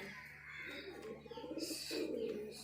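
White pigeons of a kept breed cooing in a cage, soft repeated throaty coos close by with light chirps mixed in, quiet room background.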